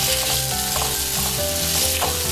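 Onion and tomato fry in a pan with a steady, close sizzle, broken by rhythmic low knocks of stirring, for a tofu scramble.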